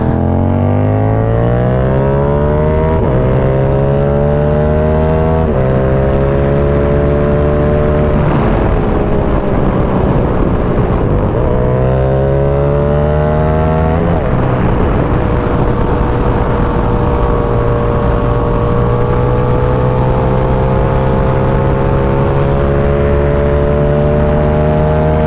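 Yamaha R7 motorcycle fitted with an SC Project CR-T exhaust, revving loudly in repeated rising sweeps and holding high revs, close by with no talking.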